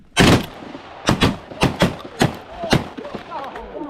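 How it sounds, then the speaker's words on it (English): Shotgun blasts ring out during opening-day duck hunting, about six sharp, loud shots fired in quick succession from several guns over a few seconds, with hunters talking between and after them. "That was good shooting, boys."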